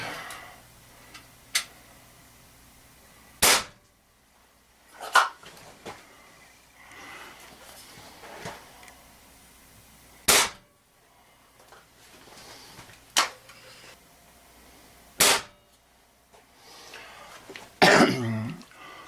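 Three sharp shots with lead pellets from a Crosman TR77 air rifle crack out one at a time with long gaps between them, each a brief snap at about 97.6 decibels over a quiet background.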